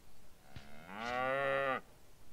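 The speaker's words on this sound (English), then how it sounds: "Okay, the cow has stopped you, Jordan." A cow in The Sims 3 video game lets out one clear, drawn-out moo that rises and holds before cutting off, preceded by a brief click, with no talk around it.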